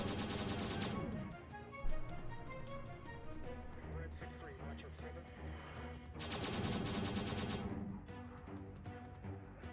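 Cannons firing in a space battle video game, with rapid bursts of sharp repeated shots that come in dense volleys at the start and again later, under quieter rumbling between them.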